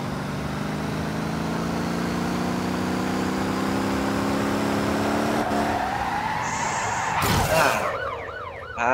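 Car in the driving game Motor Town revving hard as it accelerates, a steady engine drone building before a loud crash or skid burst near the end, with a siren-like tone joining briefly.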